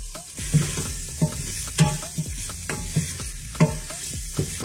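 Smoked bacon sizzling in a pot while being stirred, with scraping spoon strokes in an irregular rhythm over a steady close frying hiss.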